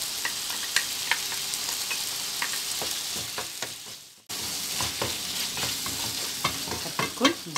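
A spoon stirs a harissa mixture in a frying pan, steady scraping and clinking over a soft sizzle, with a brief dip partway through before the stirring resumes.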